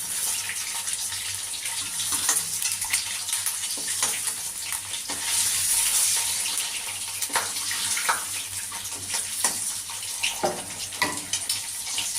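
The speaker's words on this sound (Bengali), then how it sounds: "ডিমগুলো হালকা ভাজা হয়ে গেছে এবার আমি নামিয়ে নিচ্ছি" Eggs frying in hot oil in a pan hiss and crackle steadily at close range, with sharper pops and spatters scattered through the sizzle.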